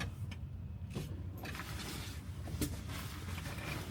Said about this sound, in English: This blue truck's leaving.